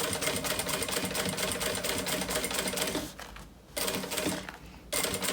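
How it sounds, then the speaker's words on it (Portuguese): A sewing machine runs steadily, stitching a seam on a handmade backpack, with two short pauses in the motor before it resumes close and loud. "É só costurar pra poder assentar essa costura e dar o acabamento."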